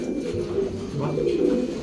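Low, throaty pigeon cooing, a short rolling coo rising and falling, close by with faint background noise.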